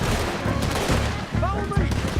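Gunfire in a Red Dead Redemption 2 shootout: scattered shots crackle and pop over a dense, steady bed of game music and background noise, with no clear gaps.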